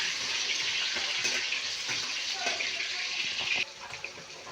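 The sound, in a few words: potatoes being stirred while frying in a pan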